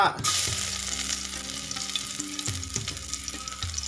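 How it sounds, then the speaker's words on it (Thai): Shallots and garlic sizzle in hot oil in a pan, a dense crackling fry close by with a few scraping stir strokes, no talking over it. "เอาหอมกระเทียมนะครับ ลงไปคั่ว"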